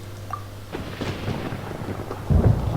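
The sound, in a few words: thunderstorm in video game Genshin Impact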